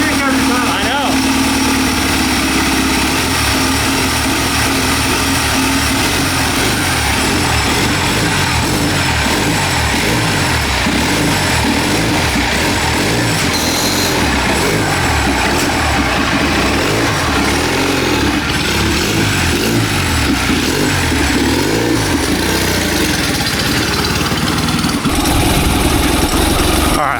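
A turbocharged mini bike built around a cheap generator engine with a four-speed gearbox runs steadily for the whole stretch, a loud, continuous mid-pitched engine drone with voices audible at times over it.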